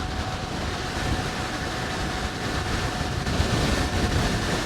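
Strong headwind buffeting the microphone on a fast-moving Kaabo Wolf King electric scooter, a loud continuous roar of wind noise with faint motor whine underneath.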